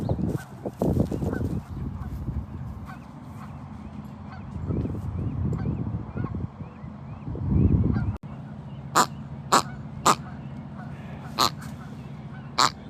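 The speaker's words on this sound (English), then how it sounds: "This is a new honking toy from Spokane." A dog's new honking squeaky toy from a feed and pet store sounds in short goose-like honks outdoors, first in dense bursts, then several separate sharp squeaks spaced a second or two apart.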